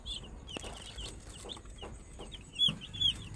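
Young chickens, fifteen birds about 45 days old, clucking in short scattered calls close by, with a couple of brighter chirps near the end and no talking.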